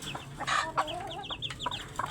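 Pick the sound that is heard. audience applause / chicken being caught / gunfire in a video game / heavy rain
chicken being caught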